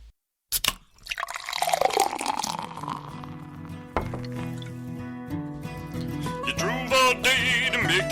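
Beer is poured in a gurgling, splashing liquid stream that rises in pitch as the glass fills, close and continuous, with layered tonal sounds joining toward the end.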